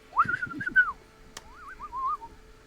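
A person whistles to call a horse: a first sustained, slightly warbling whistle, a brief click, then a second wavering, lilting whistle, close and clear with no talking.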